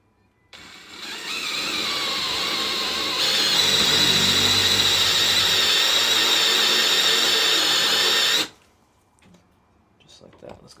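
Drill-driven suspension tool grinding peening off a shock absorber, a steady loud whining grind that starts abruptly, swells after a few seconds, holds for about eight seconds, then cuts off.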